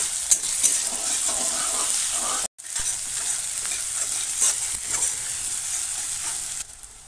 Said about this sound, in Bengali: প্রথমে কড়া বসিয়ে দিয়েছি, কড়া গরম হয়ে গেছে, পরিমাণ মতো তেল দিয়ে দিলাম। পেঁয়াজ কুচিটা দিয়ে ভালো করে ভেজে নেব।